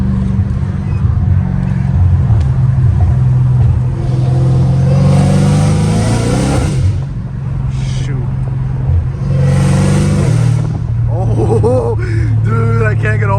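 A straight-piped Dodge Hellcat Redeye roars loudly as it accelerates from inside the cabin, its engine note climbing and dropping through gear shifts, with a person's voice heard over it.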